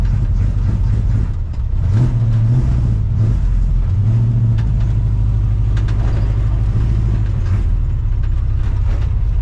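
A Chevrolet C10 with a 454 big-block engine and a dirty carburetor runs rough, making a loud, close, uneven rumble that surges and dips several times without settling.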